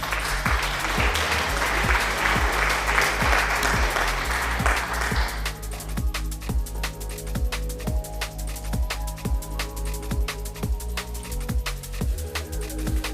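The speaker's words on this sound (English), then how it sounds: "That's applause for you, Mystical." Applause from an audience at an animation challenge event: dense, sustained clapping at steady loudness for the whole stretch, with no voices over it.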